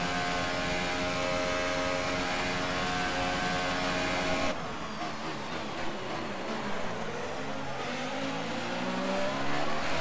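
A Formula 1 race car in F1 2018 during a China race, its engine screaming at high revs and then shifting into a lower, rising tone as it accelerates again, loud and steady throughout with no talk.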